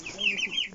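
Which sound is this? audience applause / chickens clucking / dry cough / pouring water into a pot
chickens clucking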